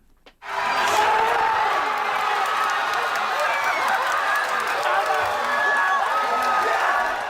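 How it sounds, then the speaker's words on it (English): Crowd of jubilant Japanese rugby fans cheering loudly inside a packed pub, a sustained roar of shouts and whoops from many voices that swells in abruptly and stays dense throughout. "the cheering reached fever pitch as jubilant Japanese fans and fan zones across the country celebrated"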